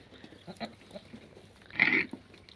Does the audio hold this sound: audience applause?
no